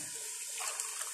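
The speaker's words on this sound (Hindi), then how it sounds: "उसके बाद आपने 1 कप पानी डालना है" A cup of water is poured into a pot of Karachi-style biryani, giving a steady splashing gush for about a second, close and fairly loud, with no talk.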